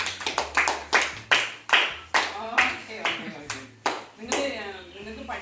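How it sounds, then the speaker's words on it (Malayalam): A group of children claps in uneven bursts, about a dozen sharp hand claps spread over a few seconds, close and lively, with voices around them. "അപ്പൊ കൈയടിക്കാൻ നമുക്ക്."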